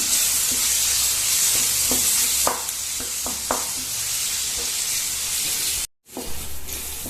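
Tomatoes and masala fry in a pan for South Indian tomato rice, a continuous loud sizzle broken by sharp scraping and clanking stirs, with a brief dropout near the end.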